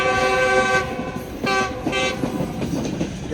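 A Pakistan Green Line passenger train hauled by a GU14 locomotive gathers speed, with a loud sustained horn blast that breaks off and sounds again in short toots over a close, rattling track rumble.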